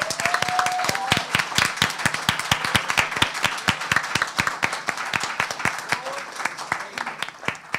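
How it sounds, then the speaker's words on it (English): Audience applause for the second-place team at a debate competition grand final, sustained crisp clapping with sharp individual claps standing out over the crowd. "And another round of applause for second place team,"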